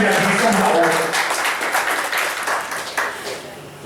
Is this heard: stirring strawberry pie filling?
no